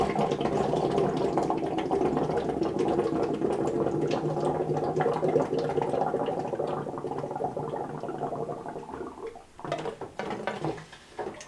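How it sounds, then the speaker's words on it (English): Breath is blown through a hose into a water-filled milk jug, making steady, close bubbling and gurgling for several seconds that then breaks into a few uneven gurgles and splashes. "I'm going to exhale into the hose, which is going to displace the water."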